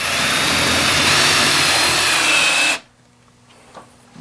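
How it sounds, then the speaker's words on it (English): A power drill with a long bit bores through a wall for a DIY cold room build, whining loud and steady for nearly three seconds before cutting off, leaving near silence. "So what I'm going to do right now is just drill through."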